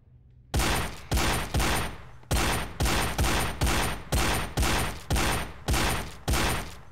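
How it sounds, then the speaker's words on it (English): Rapid bursts of gunfire in the VR shooting game Gun Club VR as watermelons are shot, a dozen loud, evenly spaced volleys each with a sharp attack and short decay, close and dominant with no talking. "I see a patch of watermelons that I feel like need to be shot."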